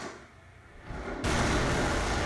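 A huge megaton explosion arrow detonates in a Death Battle animation pitting Green Arrow against Hawkeye, a deep roar that builds and then jumps to a loud, sustained rumbling blast.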